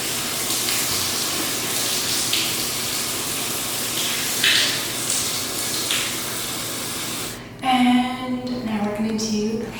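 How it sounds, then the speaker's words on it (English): A shower sprays a steady hiss of water while hair is rinsed, a continuous wash of sound that shifts abruptly near the end as the flow changes and a voice briefly speaks. "I'm gonna rinse this out now"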